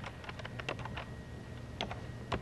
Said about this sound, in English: So let's start by typing a headline